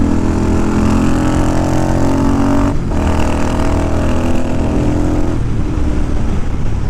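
A Royal Enfield GT 650 twin motorcycle engine-brakes into a corner, its engine note droning loud and close with a brief dip in the middle before the steady exhaust sound resumes.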